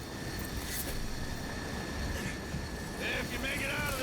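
Steady loud roar of an airplane in flight within a video game, a broad continuous engine drone with faint higher whines over it.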